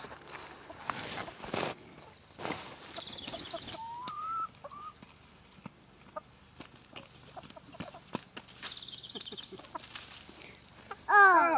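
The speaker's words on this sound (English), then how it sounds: "Here come the chickens." Chickens cluck and squawk in short bursts at moderate distance, with a rooster-like call and scattered outdoor noises between them.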